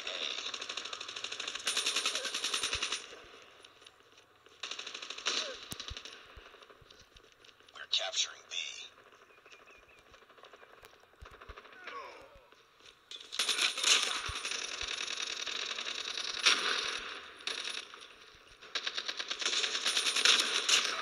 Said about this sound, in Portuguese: o que tá acontecendo desse tiro aí